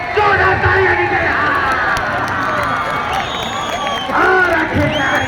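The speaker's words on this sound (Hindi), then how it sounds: "जोरदार तालियां दी गई" Loud crowd at a Bundelkhand kabaddi league match in Banda, Uttar Pradesh, roaring and cheering continuously with shouting throughout, voices rising and swelling near the end.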